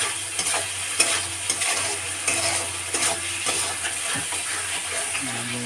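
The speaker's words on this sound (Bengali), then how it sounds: "আমার সব মশলাটাকে ভালো করে হলুদ আর নুনটা ভালো করে মিক্স করে নেওয়া হচ্ছে, মশলা কষানো হচ্ছে" Spice paste with turmeric and salt stirred and fried in a pan for a hilsa curry with potato and eggplant: a steady close sizzle broken by repeated spatula scrapes and clinks, with a low hum underneath.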